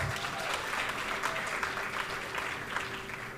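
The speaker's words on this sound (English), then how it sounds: "let's give ourselves a round of applause" A graduation audience gives a steady, dense round of applause at a cohort ceremony, filling the room with continuous clapping that holds at an even level throughout, with a faint hum running underneath.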